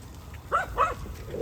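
On a farm where cows are being herded, a dog gives two quick close barks over a low background hum.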